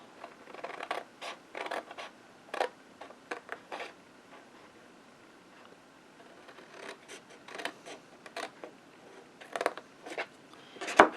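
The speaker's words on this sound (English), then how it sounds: "we're going to cut this score line out" Scissors snip and scratch through paper card along a score line while making a snowman box, short close crisp cutting bursts in irregular clusters with pauses between, no talking.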